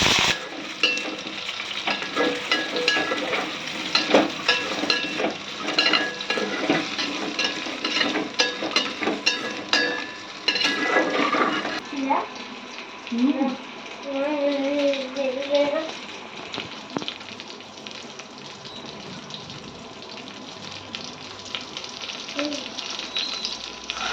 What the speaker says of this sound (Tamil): இப்போ வந்து இதை எண்ணெயிலேயே ஒரு 2 நிமிஷத்துக்கு வதக்கி